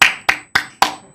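Four sharp, loud hand claps, close by and evenly spaced about a quarter second apart, each ringing briefly in a small room.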